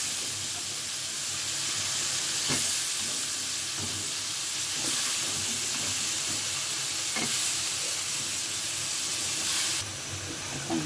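Fresh winter vegetables hit fried spice paste in a pan for a carp fish curry, giving a strong continuous sizzle and hiss, broken every couple of seconds by the scrape of stirring.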